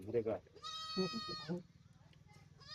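A goat bleats in a quiet rural setting, a wavering nasal cry heard once at mid-distance, framed by brief human voices before and after it.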